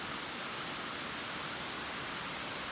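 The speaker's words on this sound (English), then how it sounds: "the rain actually just lit up. It was pretty torrential there for a while" Heavy torrential rain pours down outdoors as a dense, steady roar of hiss that never lets up, with no voices or other sounds over it.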